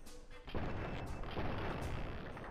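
Pistol fire in Fallout, several loud sharp shots with booming tails following one another in quick succession against a dense noisy background.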